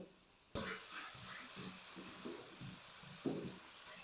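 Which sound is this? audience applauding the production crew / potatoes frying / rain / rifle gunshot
potatoes frying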